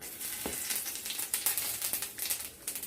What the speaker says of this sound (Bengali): এবার ওই তেলে আমরা ফোড়নে দিয়ে দেবো গোটা জিরে আর শুকনো লঙ্কা